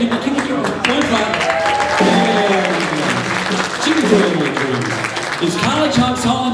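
Audience clapping for a moving company sponsor at a live event, steady applause running under a loud talking voice and background music.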